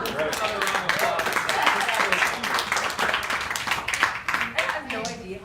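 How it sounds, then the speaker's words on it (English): An audience at a parenting speech at the Anarchapulco conference claps in a dense, steady round of applause. Voices are heard talking over it throughout. "Another round of applause."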